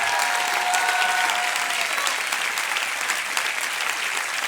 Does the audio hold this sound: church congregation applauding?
yes